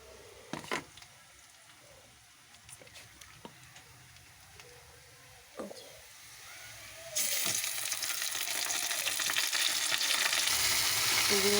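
Chicken meat fries with reddish-browned onions while being stirred, with faint scattered knocks of stirring at first, then a loud, dense sizzle that swells up and holds steady.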